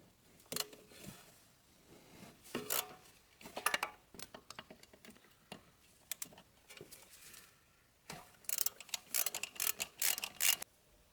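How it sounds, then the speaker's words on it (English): A socket ratchet with an extension loosens 17 mm bolts on an Infiniti Q50 during a wheel bearing job, producing several close bursts of rapid clicking separated by short pauses. "Get in there with a socket with an extension and a ratchet,"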